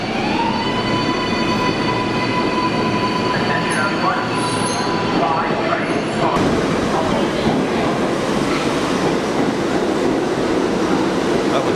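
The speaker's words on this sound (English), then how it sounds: "take the subway up Midtown." New York subway train riding up toward Midtown, with a steady loud rumble of wheels on rails, high squealing tones from the wheels and faint clatter running through the whole stretch.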